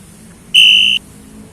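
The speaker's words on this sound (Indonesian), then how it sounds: "sehingga Raka dapat mendengar peluit sang wasit" A referee's whistle gives a single short, loud, piercing tone of about half a second against a quiet background.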